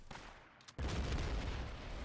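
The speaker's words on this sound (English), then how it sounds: "the sniper hears the explosion" A demolition charge detonates on an enemy forward base in Battlefield 1, arriving as a sudden heavy boom after a quiet moment, then a sustained loud rumble that lingers to the end.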